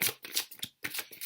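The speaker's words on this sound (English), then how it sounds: "Keep shuffling cards" Tarot cards are shuffled close up in quick papery riffles and flicks, several short bursts with brief pauses between them.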